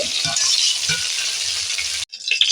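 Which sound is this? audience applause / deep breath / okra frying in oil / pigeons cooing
okra frying in oil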